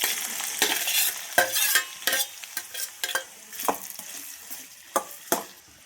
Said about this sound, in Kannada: ಎಣ್ಣೆಲಿ ಈ ರೀತಿ ಫ್ರೈ ಮಾಡ್ಕೊಳ್ಳಿ ಸಿಮ್ಮಲ್ಲಿ ಇಟ್ಕೊಂಡು